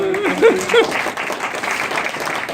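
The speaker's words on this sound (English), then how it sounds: "A round of applause for Greg." An audience applauds at a daily business outlook event, a short burst of clapping under a speaker's voice that carries over it.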